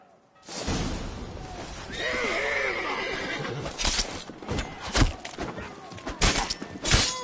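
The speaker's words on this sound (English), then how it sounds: "We grab Roderick's horses and we bolt" A horse in The Witcher 3: Wild Hunt gives a loud, wavering whinny during a tense in-game scene, followed by a scatter of sharp thuds and clattering impacts.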